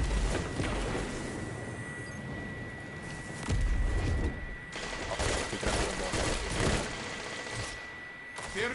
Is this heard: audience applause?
no